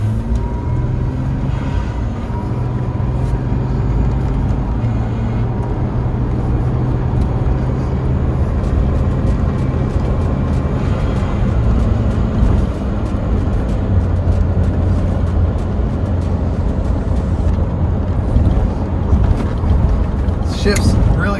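A Toyota Tacoma fitted with a Procharger supercharger drives at about quarter throttle, its steady, loud engine and road drone holding throughout with supercharger whine and boost venting mixed in, while someone talks over it.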